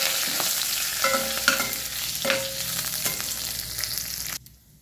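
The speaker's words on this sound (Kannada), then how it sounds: "ಈಗ ಇದಕ್ಕೆ ಕರಿಬೇವಿನ ಎಲೆ ಹಾಕ್ಕೊಳ್ತೇನೆ" Curry leaves hit hot oil already holding crushed garlic and cumin, bursting into a loud, close crackling sizzle with spatters and stirring scrapes that fade before cutting out abruptly near the end.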